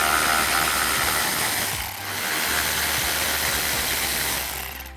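Socket ratchet clicking steadily as 10mm bolts come off the headlight housing of a 2015-2017 Ford F-150, a close, continuous pawl chatter with one brief pause midway.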